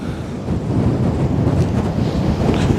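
Strong wind buffets the microphone over rough, whitecapped water on the Westerschelde, a loud continuous roar of gusts and churning surf with no voices.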